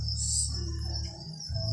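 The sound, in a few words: Thai yellow crickets chirping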